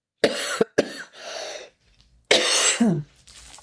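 A person coughs several times in quick, harsh bursts, close to the microphone, pausing briefly before another rough coughing fit.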